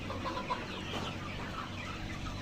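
Layer hens on a poultry farm cluck softly and intermittently, a few short calls over a low, steady barn hum, the birds moderately close and fairly quiet.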